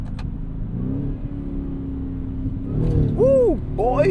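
A 2024 Ford F150 Raptor R engine revs hard through manual-mode gear shifts, a steady drone building into a rising snarl with quick pitch sweeps near the end, loud and close, with a person exclaiming over it.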